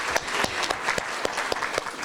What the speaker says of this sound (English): I want to start off with giving a round of applause to my fellow peers.